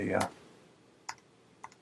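A Mac keyboard shortcut (Command plus left bracket) typed during a digital drawing session. A short burst of speech comes first, then two crisp, separate key clicks about half a second apart, close and fairly quiet.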